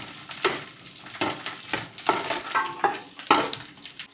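Whole cleaned garlic cloves frying in hot oil with onion for a Kerala-style pickle, giving a steady sizzle broken by repeated stirring scrapes and spatters, close and fairly loud, with no talking.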